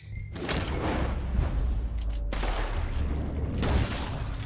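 Dense, booming gunfire from the Western video game Red Dead Redemption, rolling in sustained loud volleys with heavy low rumble and bright crack bursts, no talking over it.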